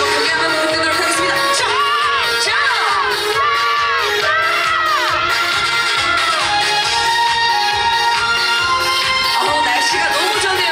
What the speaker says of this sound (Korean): 중간 박수 한번 크게 한번 보내도록 하겠습니다